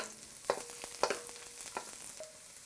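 Lots of garlic fries over moderate heat in a wok, giving a soft, steady sizzle broken by a few sharp scrapes and taps from a utensil.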